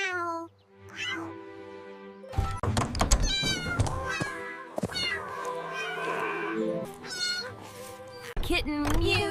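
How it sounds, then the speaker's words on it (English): A kitten mews repeatedly in the rain, high thin cries alternating with louder thumping knocks and bursts of activity, fairly close and clear against a quiet background. "Kitten mew."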